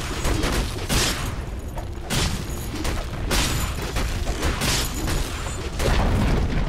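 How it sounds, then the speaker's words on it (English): Dota 2 match, a tower under attack and falling amid game combat: dense rumbling booms, bursts and crackling impacts in repeated waves, loud and continuous throughout. "Dire's middle tower has fallen."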